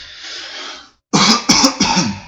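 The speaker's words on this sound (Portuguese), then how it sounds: "eu continuo com o pigarro" A faint hiss gives way to loud, harsh bursts of throat clearing, three rough hacks in quick succession, close to the microphone.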